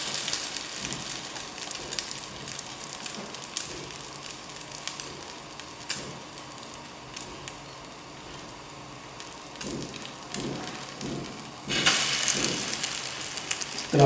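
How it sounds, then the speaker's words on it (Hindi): Egg-dipped toast fries in hot oil with a continuous soft sizzle and scattered crackles and pops, growing louder and more spattery near the end. "ये देख लें, इस तरह उठा के हमारा ये ऑयल गर्म हो गया, इसमें डालेंगे।"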